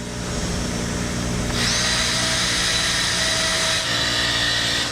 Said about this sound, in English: get our wire wheel rolling